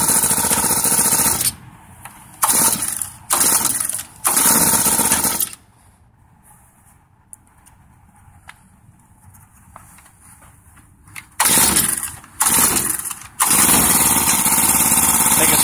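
Lawn care equipment with a small engine is pull-started repeatedly, several loud rough bursts of sputtering noise that catch briefly and die, separated by quiet gaps, with the engine running harshly again at the end.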